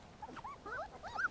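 Abandoned puppies whimpering nearby, a series of faint high-pitched rising and falling whines and yips in quick succession.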